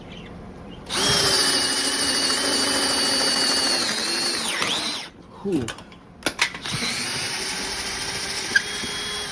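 A power drill bores with a 1/2 inch Spectral bit, a loud steady high whine for about four seconds that sags and stops, followed by short clunks and a brief exhale from someone nearby.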